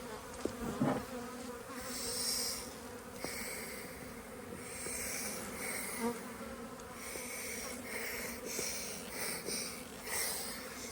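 Honey bees buzz in an opened hive colony during a brood nest inspection: a dense, close drone that swells and fades in waves, with no talking.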